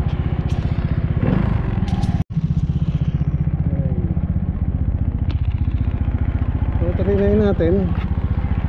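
A Honda Beat FI scooter engine idling close by with a steady, even mechanical drone and some clatter, suspected of a worn crankcase bearing. Someone speaks briefly over it.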